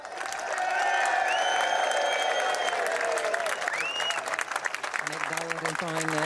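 Crowd applause at a skûtsjesilen sailing race prize ceremony in Sneek, broad and steady throughout, with some cheering and whistles, and a few voices and tonal sounds emerging near the end.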